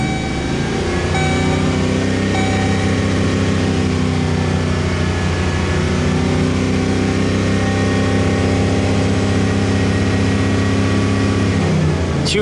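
Engine of a service van with an EVAP fault cranking over and settling into a steady idle, loud and close, a continuous low rumble running without a break and with no voices over it.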